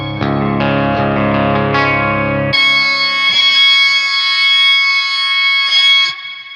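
Boss XS-100 pitch shifter on electric guitar: sustained chords ring out, then abruptly leap four octaves up into a piercing, thin, whistle-like tone that holds steady before fading.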